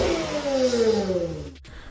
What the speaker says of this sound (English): but just those revs from that 2GR.